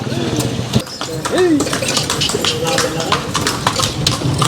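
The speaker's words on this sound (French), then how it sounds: "Je vais faire un petit tour en calèche et on va visiter le centre-ville" Horse-drawn calèche hooves clip-clopping on a street in historic Vigan, Philippines, a steady close rhythm under a busy town soundscape with a voice talking over it.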